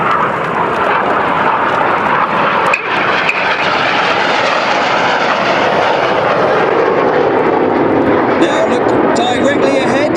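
Red Arrows synchro pair jets roar past at a Malta airshow, a loud continuous rushing engine noise filling the air, with crowd sounds and a commentator's voice nearby.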